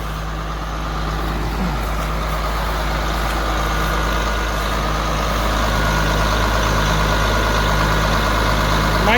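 A John Deere 4250 tractor idles steadily after getting stuck in a muddy wet spot. Its low engine drone runs close and constant throughout, with no talking.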